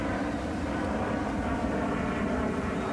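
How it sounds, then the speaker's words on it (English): A jet airplane passes overhead, its engine roar a steady, loud, broadband rumble that holds level for the whole stretch with no voices. "this jet should go right over my shoulder."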